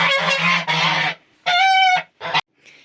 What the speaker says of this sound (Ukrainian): Ох і голосний цей гусик